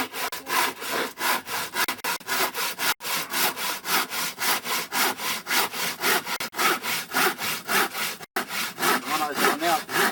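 Rapid, rhythmic strokes of a sharp handsaw cutting wood for a nest box, close up and steady, briefly pausing once or twice before continuing.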